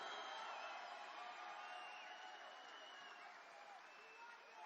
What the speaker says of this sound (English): Dina DeCamp, let's give her a big round of applause.